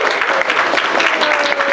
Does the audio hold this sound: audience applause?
yes